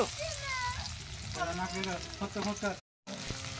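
Food frying in a hot pan on a home stove, a steady sizzle running throughout with a person talking over it and a brief dropout near the end.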